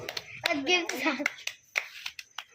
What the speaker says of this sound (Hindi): ताली बजाओ भाई, ताली बजाओ, ताली बजाओ, ताली बजाओ